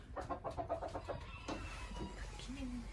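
A rooster, busy finding a nesting spot for a hen, makes a run of quick, low clucks, then quieter fowl sounds follow over faint background noise.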